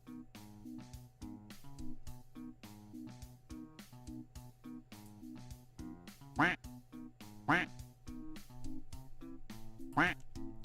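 Duck quacks sound in a streamer's on-stream duck race game over a steady looping musical backing, with several loud, nasal quacks standing out toward the end.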